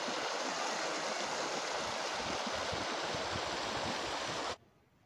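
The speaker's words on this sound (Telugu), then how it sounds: "ఇది ఆరపల్లి వాగు." The Arapalli stream in Karimnagar, Telangana, rushes with a steady, close, full hiss of flowing water that cuts off abruptly near the end.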